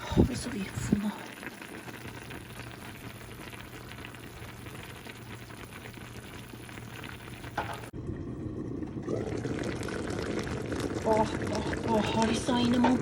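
Pot of Armenian dolma stuffed with fresh grape leaves simmering on the stove, a steady low bubbling and sizzling that grows denser and louder in the second half, with someone talking over it.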